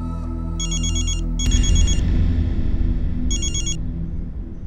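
Phone ringing with an electronic ringtone, repeated bursts of bright trilling tones over a low droning background music bed, loud and close.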